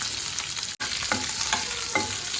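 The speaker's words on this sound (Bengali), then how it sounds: "তো 5 ফোড়ন দিয়েছি, আর এর মধ্যে পেঁয়াজ দেবো।" Onion sizzles in hot oil with dried chilli and five-spice seeds for Bengali aloo posto, a loud, steady frying hiss with a sudden brief cutout and a few stirring scrapes.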